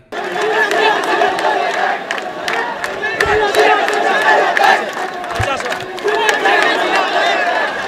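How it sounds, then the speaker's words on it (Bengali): Students protesting at Shahbag in Dhaka chant slogans together for a single demand, a dense roaring crowd of many voices that stays loud and continuous, with rhythmic shouted bursts and scattered cries over the mass. "এ সময় শিক্ষার্থীরা এক দফা দাবি আদায়ে বিভিন্ন স্লোগান দিতে থাকে।"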